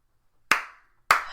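Two sharp, loud claps about half a second apart, each a crisp broadband smack with a short decay, heard alone in a quiet room as a celebration.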